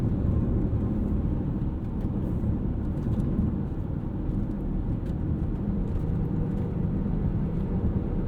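A 2007 BMW X5 3.0 Si with about 250,000 miles, driven in Sport mode, gives a steady low engine and road drone inside the cabin, with no talk over it.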